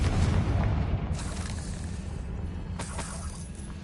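Confringo fire spell blast in Hogwarts Legacy, a loud low boom at the start that rumbles and fades over a few seconds, with a faint crackle later.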